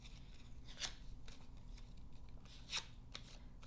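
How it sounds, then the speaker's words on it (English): Scissors put texture into paper leaves for a paper ranunculus flower: two crisp snipping scrapes stand out over a faint, steady background, with quieter rustles between them. "I'll first go ahead and fold these just a little bit, add some texture with my scissors."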